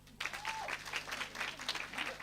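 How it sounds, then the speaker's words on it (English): An audience at an eighth grade graduation claps for a graduate whose name has just been called, a dense steady round of applause heard from a moderate distance. "I humbly request that you clap after I mention their names only"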